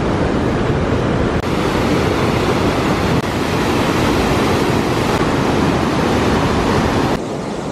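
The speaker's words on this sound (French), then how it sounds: "Regardez toute cette écume parce que le torrent va tellement vite." Fast, foaming mountain torrent rushing along the Salkantay trek in Peru. The roar is loud and steady, broadband and close, with no voices.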